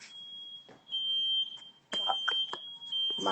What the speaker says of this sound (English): fire alarm is going off in the building